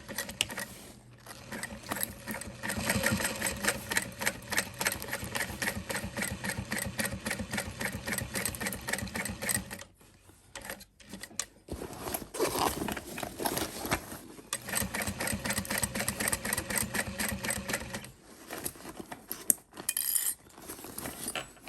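Domestic sewing machine stitching in the ditch on the back of a shoulder bag, a steady rapid mechanical chatter running close and loud, pausing briefly around ten seconds and again near eighteen before resuming.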